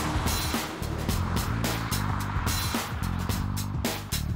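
BMW 228i Convertible pulling away hard, a steady loud engine drone with stepped rises in pitch as it gathers speed, fairly close and continuous with no talking.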